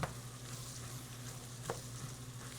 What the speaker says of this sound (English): just let that butter melt